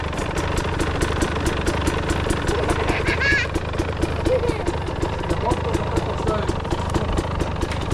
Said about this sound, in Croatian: Samo da se motori malo ugriju i onda startamo